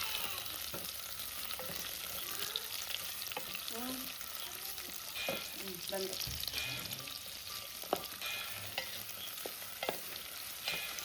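Onions sizzling and frying in a pan for a chicken green masala, with steady hiss and occasional stirring clinks and scrapes throughout, close and moderately loud.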